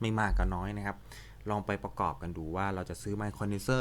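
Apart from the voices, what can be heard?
No distinct noise like a dog, phone or traffic.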